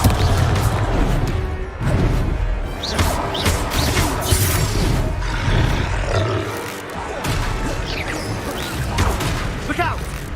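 Confringo blasting spell fired in Hogwarts Legacy combat, several loud blasts and crashes mixed with roaring creature sounds and grunts, with voices shouting throughout the fight.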